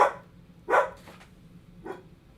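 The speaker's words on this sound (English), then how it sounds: "Our dog is barking." A pet dog barks indoors, producing three separate barks a second or so apart, the second loudest and the last fainter, heard with no talk over them.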